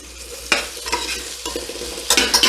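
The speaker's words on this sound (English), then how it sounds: "And so we're gonna start to cook them" Peeled, chopped potatoes browning in oil for a hamburger and potato casserole, close frying sizzle broken by several loud scraping stir strokes, irregular and busy, with no speech.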